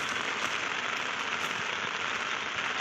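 Heavy rain pours down during a fishing outing, a dense, even hiss of drops close by, continuous and unbroken for the whole moment.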